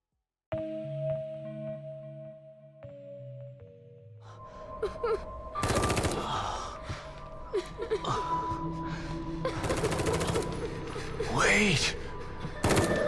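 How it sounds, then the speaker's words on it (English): Gunfire in the survival horror game The Evil Within 2, sharp bursts of shots cutting in amid tense game music and ambient effects, several loud volleys spread through the scene. "A woman is the source of the gunshots."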